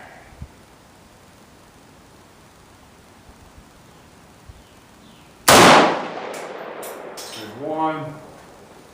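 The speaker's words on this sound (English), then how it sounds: "We can take a couple more shots." An AK rifle fires a single loud, sharp shot at an outdoor shooting range, with a lingering tail and voices talking just afterward.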